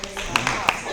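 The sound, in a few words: golf clap, soft polite clapping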